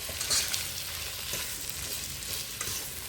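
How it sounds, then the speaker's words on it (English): A spoon stirs seafood gumbo in a cooking pot, giving a steady sizzle and scraping swish that runs throughout, loud and close with no voices. "Put that in and stir it up. And let that cook down a little bit."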